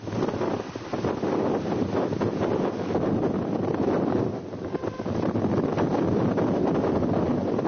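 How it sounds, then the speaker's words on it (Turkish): Strong lodos wind roars continuously, buffeting the microphone with dense, rumbling gusts that barely let up. "Bazıları da rüzgara sırtını verdi."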